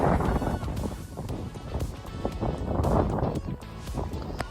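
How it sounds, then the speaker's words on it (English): Rain falls outside the Basilica in New Orleans on a wet Christmas day, a steady broadband wash of patter and splashing close to the microphone, with gusty rumbling noise and no voices. "You can hear the rain sounds as I'm standing outside the Basilica."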